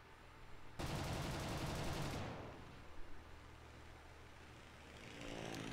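Gunfire in a simulator battle video game: a loud, rapid automatic burst lasts over a second, then fades into an engine-like drone with scattered softer shots and a rising whine near the end.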